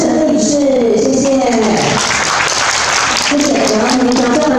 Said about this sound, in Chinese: 来特别掌声欢迎到我们的常务理事杨丽萍杨常务理事